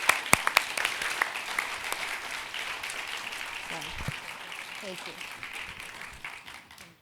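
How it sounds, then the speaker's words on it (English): A room of listeners applauds Julie Hanna and John Markoff at a ReSurge honors event, with steady, fairly close clapping filling the whole stretch while a voice briefly speaks near the start. "So one more round of applause for an incredible..."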